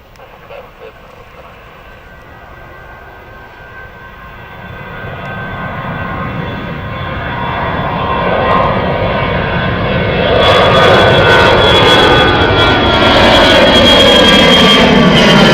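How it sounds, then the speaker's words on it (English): An EasyJet airliner takes off at Gatwick Airport, its jet engine roar building steadily from a moderate rumble to a loud, sustained broadband thunder with rising whine, heard alone with no talk. "EasyJet taking off right now."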